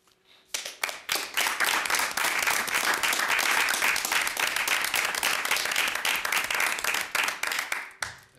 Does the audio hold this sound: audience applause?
yes